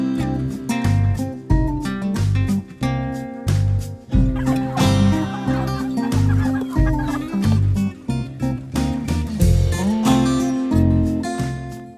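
Several hungry poultry birds at morning feeding on a farm gobble and cluck together in a busy, overlapping chorus, loud and close, continuing steadily throughout.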